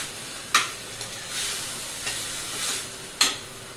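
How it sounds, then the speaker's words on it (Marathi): Broccoli, onion and cumin sauté in olive oil in a pan, with a soft steady sizzle and a few sharp scraping clatters of stirring, fairly close and moderately quiet. "ऑलिव्ह ऑइल घेतलंय, जिरं, कांदा टाकून घेऊया, त्यात हा ब्रोकोली टाकून घेऊया।"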